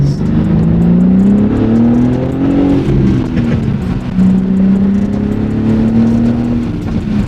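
A car engine drones loudly inside the cabin, its pitch rising and falling as it revs and shifts, steady and close throughout.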